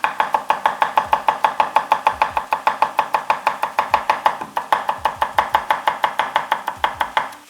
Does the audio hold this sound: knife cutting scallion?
yes